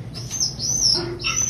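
Sambalpuri pigeon calling with thin, high chirping notes in a few short bursts, close by over a low steady background hum.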